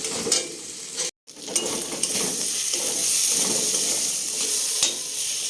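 Peeled taro fries in hot oil with spices, a steady close sizzle broken by scraping stirs of a spoon against the pan, with a brief silent gap near the start.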